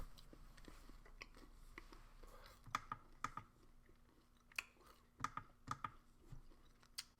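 Someone chews very minty gum up close in a quiet room, with faint, irregular wet clicks and smacks that come in small clusters.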